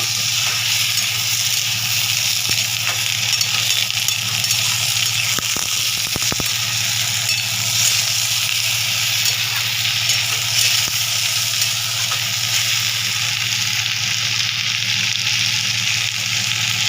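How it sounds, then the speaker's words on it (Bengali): Chopped tomatoes fry in a pan with a steady, even sizzle that runs throughout, broken by a few brief scraping stirs near the middle. "এরকম করে ভালো করে ভেজে নেবে।"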